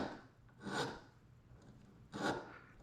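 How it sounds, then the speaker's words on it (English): A small needle file rasps lightly at a burr on a rivet held by its head, two brief gritty strokes close by in a quiet setting. "get like a small needle file and just lightly"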